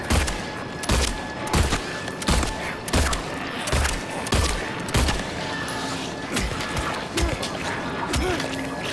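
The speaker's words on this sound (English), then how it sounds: "I whiffed a lot of bullets there" Video game gunfire in a regular run of loud, sharp shots, roughly two per second, close and punchy, over a busy background with faint talk.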